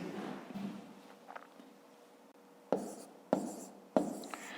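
Pen or chalk writing out numbers during a long-division exercise, with faint scratching followed by three sharp, distinct strokes close by, no talking.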